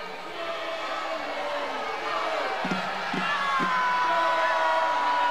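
Arena crowd at a Hawaii Warriors versus USC men's volleyball match reacts to a disputed USC point with a loud, sustained roar of booing and shouting that swells toward the end.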